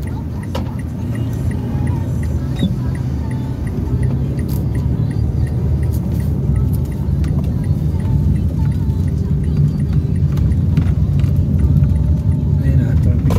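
A car driving through city traffic in Makati, with a steady low engine and road rumble throughout, faint passing vehicles and occasional light rattles, while people talk inside.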